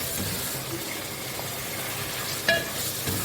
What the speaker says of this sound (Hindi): प्री हीट ऑयल में मैं चिकन ऐड कर दूँगी।